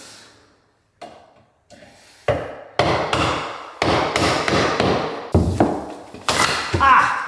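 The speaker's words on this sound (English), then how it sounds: "with a hammer and chisel, nails can come out a lot easier than screws" A hammer striking a chisel to pull old nails from a living-room wall, with a series of sharp, loud, close metallic knocks arriving at irregular intervals after a few quieter taps.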